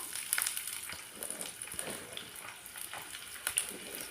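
Small shallots crackle and sizzle in lightly heated coconut oil, a soft, uneven frying with scattered pops and faint clicks and no voices.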